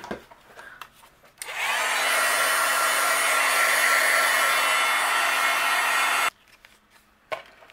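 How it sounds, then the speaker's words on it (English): A crafting heat gun switches on and blows for about five seconds, a loud steady whooshing hiss with a faint tone, melting embossing powder on cardstock, then cuts off abruptly. "And I'll use my heat gun and we'll melt this."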